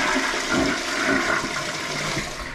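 A newly plumbed house toilet flushing for the first time, a steady, close rush of water that holds for a couple of seconds before easing slightly at the end.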